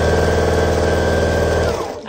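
A sewing machine stitching pieces of quilt fabric scraps for a flying geese block, running at a fast, steady mechanical whir with rapid needle clatter before stopping abruptly near the end.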